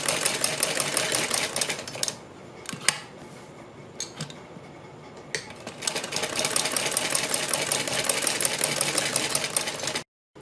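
A sewing machine runs stitches around a garment neckline beside buckram, whirring in short bursts at first and then in a long continuous run before stopping abruptly.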